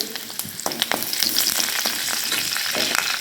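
Chopped green chillies and curry leaves crackling in hot oil for a rajma dish, a close, busy sizzle with sharp pops and spits throughout.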